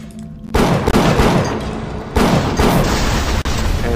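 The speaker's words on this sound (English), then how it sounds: "we're gonna use our pistol to uh, get rid of that." Pistol gunshots in the video game Bioshock come as loud, close booming shots, at least two heavy blasts whose roar carries on into dense in-game noise, with no talk.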